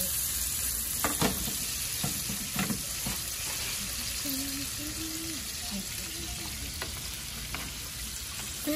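Fish fries in butter in a backyard cafe pan, giving a steady close sizzle with occasional scraping clicks as the fish is turned, while a voice murmurs faintly in the background.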